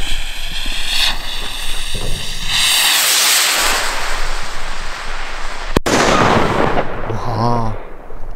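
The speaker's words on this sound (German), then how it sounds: "So, die nächste kleine Rakete von dem Pink Sky." A small Pink Sky Red Shiner firework rocket, a 40-gram rocket, whooshes up with a rising hiss, then bursts with a sharp crack and a fizzing crackle; a voice speaks briefly near the end.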